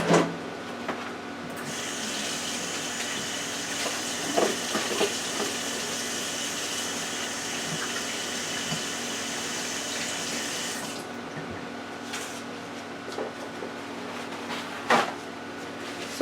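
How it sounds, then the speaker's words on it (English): A kitchen tap runs steadily while hands are washed beneath it, a continuous moderate hiss of water with splashing and light knocks, the flow stopping after about eleven seconds before a few soft clunks. "now let me wash my hands"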